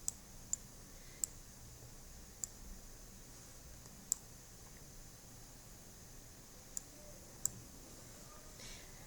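Faint, sharp computer mouse clicks sound one at a time at irregular intervals over a quiet background hiss, about seven clicks in all.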